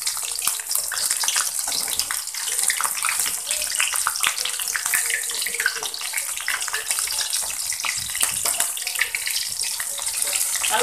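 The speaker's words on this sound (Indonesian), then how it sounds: "kita goreng lagi sekarang ayamnya sampai matang" Chicken wings fry in a pan over low heat, giving a steady, continuous sizzle with dense crackling throughout, close and even in level, with no talking.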